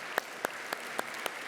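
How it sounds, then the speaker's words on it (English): Applause from an audience at a Minnesota awards ceremony, heard as a handful of spaced, faint claps over a low wash of crowd noise. "Let's give Paul another round of applause for all of his contributions over the 10 years"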